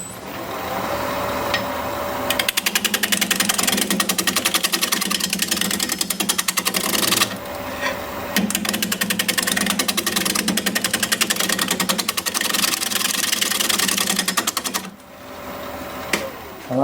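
Wood lathe spinning a wooden bowl blank at 650 rpm, a steady mechanical whir with rhythmic tool chatter in long continuous passages, broken by brief pauses, loud and close.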